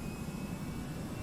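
Aerosoft A320 jet engines spool up for takeoff in the Prepar3D flight simulator: a steady, continuous low roar with a thin high whine running through it, held at an even level without any speech.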